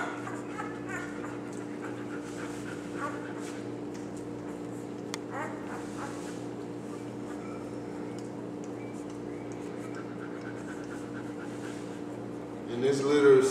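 A puppy with a red sable coat on black pants quietly and rhythmically close by, soft steady breaths under a faint hum, with a louder rustle at the end.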